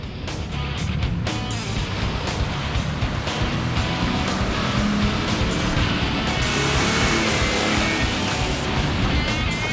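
A vehicle towing a trailer pushes through a deep river crossing, giving a loud, continuous rush and churn of water over a low engine drone throughout, with no talk.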